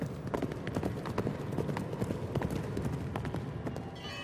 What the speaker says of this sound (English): They formed a cavalry force to ride on Moscow and install Dmitri as their figurehead.